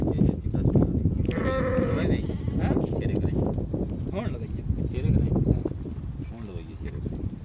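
Goats bleat on a farm, several calls rising over constant nearby chatter from men, with hoof shuffles and bustle in the background.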